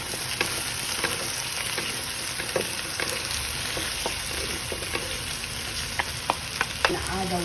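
Sausage and potatoes frying with oyster sauce, a steady sizzle with repeated light scrapes and taps of a spatula as the pan is stirred, close and clear.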